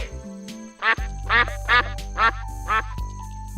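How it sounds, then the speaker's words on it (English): A cartoon duck in a children's animal-learning animation gives five loud, nasal quacks in an even rhythm over a soft, sustained musical background. "Duck."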